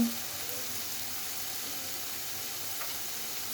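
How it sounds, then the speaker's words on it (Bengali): Pointed gourd frying in a pan with a little turmeric powder, a steady, even sizzle that holds throughout at moderate level with no talk over it. "দিয়ে এটা আবার ভালোভাবে একটু ভেজে নিচ্ছে"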